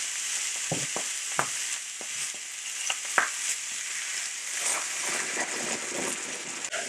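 Miller High Life beer is poured into a hot pan of seared bratwurst, producing a steady bright sizzle with a few sharp clinks and scrapes as the pan is stirred.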